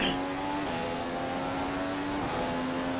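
An F1 race car at Spa in the F1 2015 video game, a steady high engine drone accelerating with a gear shift midway, continuous and fairly loud with no talk.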